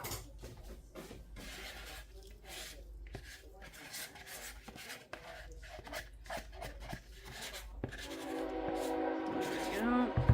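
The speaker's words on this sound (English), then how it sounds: "Ignore the train, we're like 2 blocks away." A train passes a couple of blocks away, a distant rumble and grinding of wheels beneath clattering and scraping sounds nearby.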